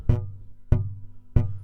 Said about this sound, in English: Kind of a muted, muffled sound.